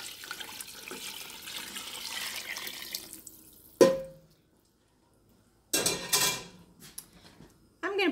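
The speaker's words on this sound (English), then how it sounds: "I'm gonna put the water in." Water splashes and pours into a pot of chicken stock in short bursts separated by a silent pause, with clatter and a sharp metallic knock.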